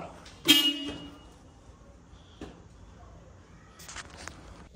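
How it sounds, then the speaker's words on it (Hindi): A short car horn toot sounds once at the Nampally Exhibition in Hyderabad, followed by quieter knocks and a later burst of noise over a dim background. "हॉर्न मार के दिखाओ जल्दी हॉर्न मारो"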